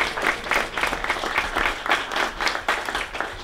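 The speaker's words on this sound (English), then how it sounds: "so let's give a round of applause to them." Wedding guests at a vineyard reception applaud the couple's parents, with a room full of hands clapping in a lively, slightly uneven rhythm, individual claps popping through the steady wash.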